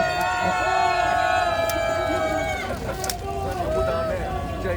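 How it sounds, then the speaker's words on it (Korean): Large crowd cheering and calling out at an outdoor political rally in Gwanghwamun, Seoul, urging rejection of President Yoon Suk Yeol's impeachment; dense, loud, sustained crowd noise with a steady wash of voices and whistle-like tones throughout. "자, 우리 환호해 주세요"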